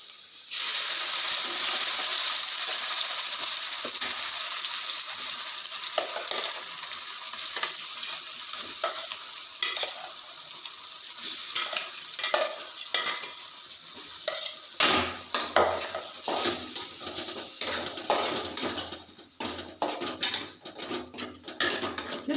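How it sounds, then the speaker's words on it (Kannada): Ground masala paste fries in hot oil for an okra sambar, a bright steady sizzle at first, then louder clattering scrapes of a spoon stirring against the pan, with no talking. "ಚೆನ್ನಾಗಿ ಹಸಿ ವಾಸನೆ ಹೋಗೋ ತನಕನೂ ಚೆನ್ನಾಗಿ ಎಣ್ಣೆನಲ್ಲೇ ಸ್ವಲ್ಪ ಬೇಯಿಸಬೇಕು"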